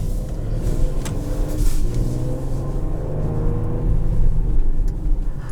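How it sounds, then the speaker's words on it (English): A 2021 Ford Explorer ST with a twin-turbo V6 accelerating, a steady rumbling engine drone with road noise that swells gradually, heard from inside the cabin. "it almost sounds like the Maserati Ghibli. Of course, it is a twin-turbo V6"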